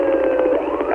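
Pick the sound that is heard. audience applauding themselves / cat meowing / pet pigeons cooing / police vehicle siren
police vehicle siren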